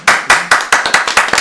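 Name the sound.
clapping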